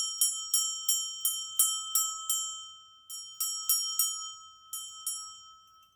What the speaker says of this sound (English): I'm just going to clear the energy with the bell again